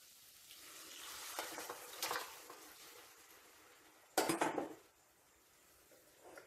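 Cooked chicken is stirred and fried in a pan with onions for a white kuruma, making a soft sizzle broken by scraping stirs and a louder clatter near the end.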